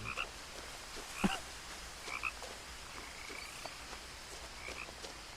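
Frog in the video game What Remains of Edith Finch, croaking in scattered short calls at irregular intervals, fairly faint against a soft ambient background.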